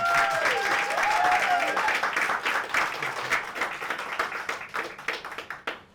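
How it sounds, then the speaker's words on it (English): An audience at a book discussion on civility claps in a dense, sustained round that gradually loosens into scattered claps near the end, with a brief high tone and some voices underneath. "I think that's worth a round of applause before we even hear."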